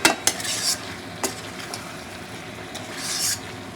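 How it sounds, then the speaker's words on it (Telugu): A spoon stirs fried capsicum into kadai chicken, giving sharp metallic clacks and scrapes against the pan over a faint sizzle that swells briefly near the end. "క్యాప్సికమ్ వేసుకున్నాక మనము దీన్ని నీట్గా కలిపేయాలి"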